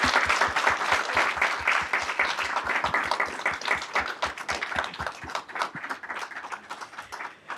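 A crowd at a Champions for Change event gives a loud, sustained round of applause, dense clapping that holds steady for several seconds before gradually thinning out near the end.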